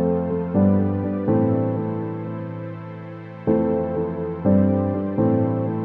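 The Bright Sunbeam synth patch from the Verve instrument in Cubase 12 plays sustained, bright chords that change every second or so, each swelling in and slowly fading, with no voices.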